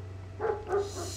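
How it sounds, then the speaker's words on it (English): Dog in the video game Mafia 2 giving two short, fairly faint barks or yips in quick succession behind an apartment door, over a steady low hum, with no voices. "Shut up, dog."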